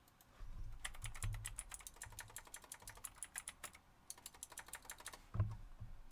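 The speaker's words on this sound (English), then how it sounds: "Trying to find it by just typing in" Someone types on a computer keyboard in quick, irregular bursts of crisp clicks, with a short pause midway and a louder key thump near the end. No one talks.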